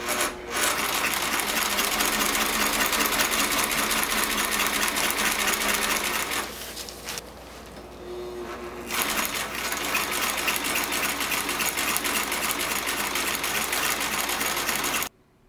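A sewing machine runs steadily while stitching a rolled hem along the edge of a tarp, buzzing loud and close for most of the stretch with a brief quieter lull midway.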